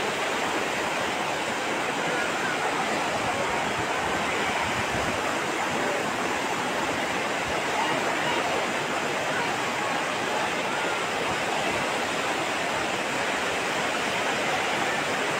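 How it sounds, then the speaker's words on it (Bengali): Muhuri river floodwater pours through a breached embankment near Shaldah village, Parshuram, producing a constant loud rushing roar with no break. "ফুলগাজী পরশুরামের শালদহ গ্রাম, অনেক জায়গায় পানি প্রবাহিত হচ্ছে"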